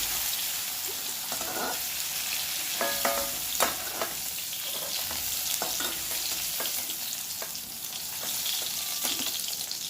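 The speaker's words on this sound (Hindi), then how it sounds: "अच्छे से फ्राई कर दी थी तेल में" Mushrooms fry in hot oil in a home kitchen pan, a steady close sizzle throughout with occasional sharper crackles and stirring scrapes.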